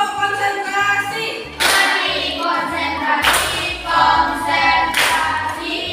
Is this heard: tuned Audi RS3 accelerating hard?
no